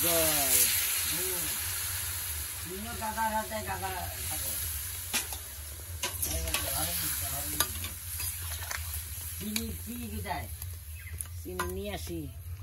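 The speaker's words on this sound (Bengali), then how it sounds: "এবার দিতে হলো জল, এবার কিছুক্ষণ জাল হবে" Raw mango chutney bubbles and sizzles in a pan after water is added, with steady stirring scrapes and hiss under a voice that talks on and off.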